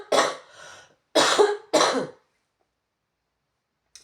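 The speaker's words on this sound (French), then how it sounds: "Pardon, je vais tousser." A woman still recovering from a fever coughs in three separate bursts, the first trailing off in a rough rasp, then the recording falls silent.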